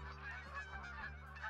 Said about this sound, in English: these geese are driving me insane